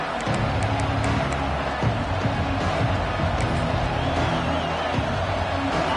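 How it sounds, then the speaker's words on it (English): Football stadium crowd roars steadily in a dense, continuous wash of noise, with a broadcaster talking over it throughout. "This crowd ready to make its presence known."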